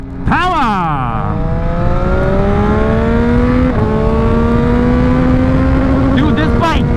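A Yamaha XSR900 motorcycle engine revs hard and climbs through the gears, close and loud, its pitch sweeping upward repeatedly with a brief dip between shifts, and wind noise runs underneath throughout.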